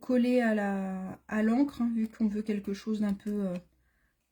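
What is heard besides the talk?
No distinct noise like a dog, phone or traffic.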